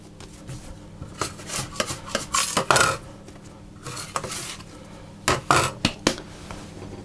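Bread dough for Italian herbs and garlic bread being turned over and worked with a scraper, heard as a series of sharp scraping clicks and taps in irregular bursts against a quiet background.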